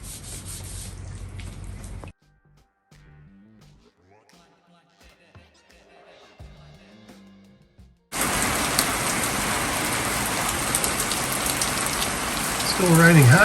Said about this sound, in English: Still raining hard.